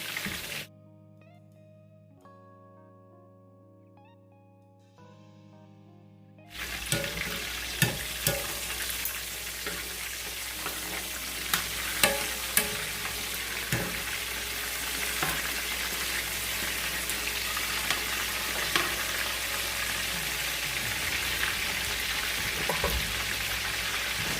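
Korean BBQ chicken wings fry in hot oil with a steady, loud sizzle and crackle and scattered sharp pops, close up, after a few seconds of soft music.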